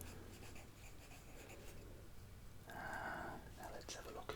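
A fine pencil scratches and scrapes across a paper map of Sydney Harbour, close and quiet, with soft whispered speech at times.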